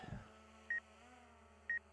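Two short, clear electronic warning beeps from a drone over a garden, about a second apart over a quiet low hum, with a brief rustle at the start.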